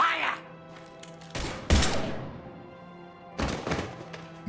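Gunfire in the video game Mass Effect 3: a few sharp, loud thumping bursts separated by quieter stretches, with a low hum underneath and game voices around the shots.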